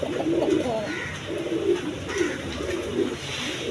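Pigeons at a pigeon sale cooing close by in repeated soft, rounded phrases that rise and fall over a low background murmur.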